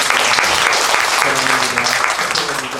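Loud, warm applause fills a church sanctuary as the congregation claps together, with a hum of voices or music tones underneath.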